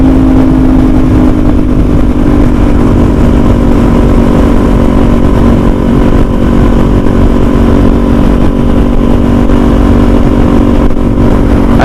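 A 2021 Kawasaki Z400 motorcycle engine while riding at a highway cruise, a loud, steady, close drone with a constant pitch and strong wind noise throughout, and no talk over it.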